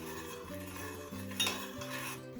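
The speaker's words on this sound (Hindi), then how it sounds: "इसे अच्छे से मिक्स कर दीजिए इसके अंदर" Saffron-orange food colour being stirred into warm sugar syrup for Hanuman boondi prasad, a steady close spoon-against-pan scraping and swishing with a few light clinks, no voices.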